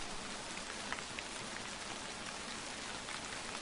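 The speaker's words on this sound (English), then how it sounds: "Quiet rain. Pitter pat, pitter pat." Soft, steady rainfall patters in an even wash, with a few slightly louder drops standing out here and there and no speech.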